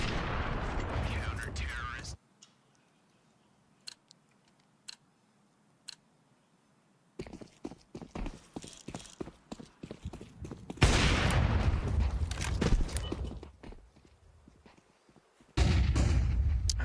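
Sharp bursts of gunfire from Counter-Strike during a professional match, scattered single shots and rapid volleys separated by near-silent gaps, with a loud broadcast stretch and voices talking over parts of the action.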